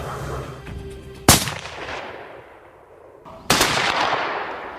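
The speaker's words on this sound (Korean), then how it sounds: "적막감이 감도는 숲속에서 갑자기 총성이 울립니다" Two loud rifle shots from special forces snipers in a forest crack out about two seconds apart, each followed by a long reverberating echo rolling through the trees, with no voices.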